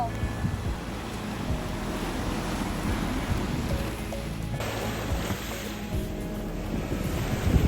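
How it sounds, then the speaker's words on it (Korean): Waves rolling in a resort wave pool, a steady broad wash of surf and splashing water throughout, fairly loud and continuous with no speech over it. "파도풀을 즐깁니다."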